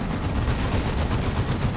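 Side cannons fire in Dawn of War 2: Retribution, a dense, continuous barrage of booming gunfire rolling on without a break, loud and close throughout.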